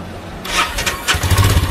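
A rented motorcycle on a Manali to Zanskar trip, engine dying whenever the throttle is released, cranks and catches briefly with a short burst of revving, then sputters unevenly, close and fairly loud.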